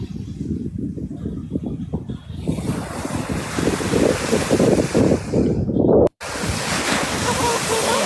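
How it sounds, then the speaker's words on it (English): Big ocean waves break on a beach in a steady roar of surf with strong wind buffeting the microphone, loud and continuous, broken briefly by a sharp dropout near the end. "Some nice big waves."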